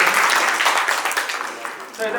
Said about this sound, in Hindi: बहुत जोरदार तालियां बजाएं आप विकास अधिकारी जी के लिए